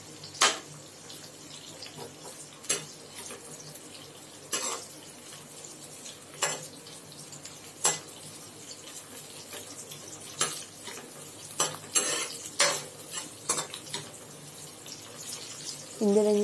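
Onions for a South Indian fish curry sauté quietly in a pan, with a soft steady sizzle broken by occasional sharp scrapes and clicks of a spoon stirring at irregular intervals.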